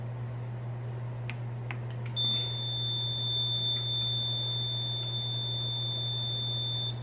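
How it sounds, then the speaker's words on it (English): A Mircom FX-2000 fire alarm panel sounds a steady high-pitched electronic alarm tone that starts partway in and holds continuously, with a few brief clicks before it over a low constant hum. "you got an alarm on the 8th floor"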